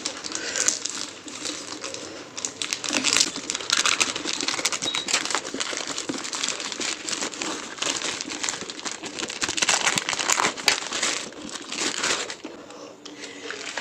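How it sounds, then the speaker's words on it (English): Cutting open the cover on an Amazon delivery box, a continuous close crinkling and scraping of packaging material that carries on steadily for several seconds, with brief louder rustles. "So I'm going to cut the cover first."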